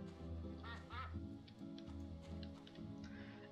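Several quacks from a duck in the farming game My Time at Portia, clear and close at the start, then fainter calls sounding over looping in-game music.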